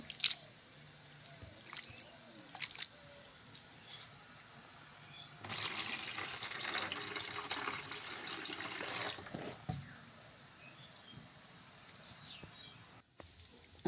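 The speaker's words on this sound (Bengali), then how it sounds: "জল দিয়ে ভালো করে আমি চিড়েটা ধুয়ে নেব" Flattened rice (chira) is washed with water in a home kitchen, with faint swishing and dripping, then a steadier stretch of pouring and sloshing water before it quiets again.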